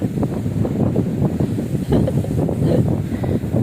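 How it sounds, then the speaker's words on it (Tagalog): Strong wind buffets the microphone in steady, rumbling gusts during a ride to Pawa Windmill, loud and continuous with no talking. "Lakas ng hangin, no?"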